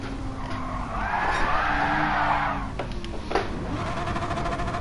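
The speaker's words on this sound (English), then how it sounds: "That was a nice drift." Car drifting with a sustained tire squeal in the GT Sport racing game, a loud screech lasting a couple of seconds over steady engine drone, then brief bumps and a fading rumble.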